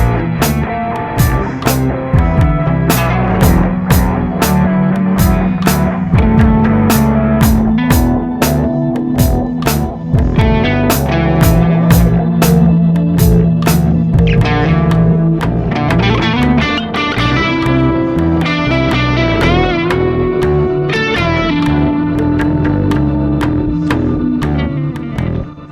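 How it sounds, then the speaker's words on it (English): Electric guitar played through a BOSS GT-1000 mono patch with intense reverb and distortion, a loud run of picked notes and chords with long washing tails, no talking. "where we've got that intense reverb"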